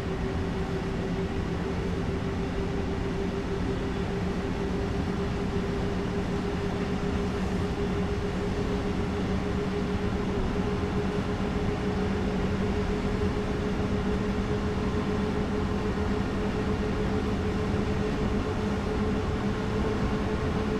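A Taurus electric locomotive hauls four double-deck regional express coaches toward Lake Constance in the Train Sim World 4 video game, giving a steady, continuous rumble with a constant motor drone throughout and no talking.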